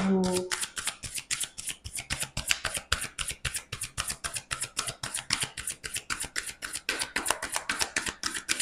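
A deck of oracle cards is shuffled by hand in a rapid, even run of crisp riffling slaps up close, continuing steadily for several seconds after a brief tonal sound at the start.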